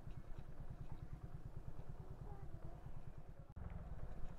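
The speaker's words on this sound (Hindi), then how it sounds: "पहले बाइक पार्क करते हैं।" A motorcycle idles close by with a rapid, steady low thumping while being parked at a nature park in Dharmshala, Kangra, briefly cutting out and then picking up again, with a voice talking over it.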